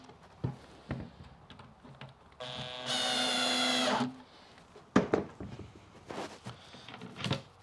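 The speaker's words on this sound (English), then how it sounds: "we can just go around and do up all those top screws" A powered screwdriver drives top screws into a wooden bee brood box in one sustained whirring burst of about a second and a half, close by, surrounded by sharp knocks and handling clatter.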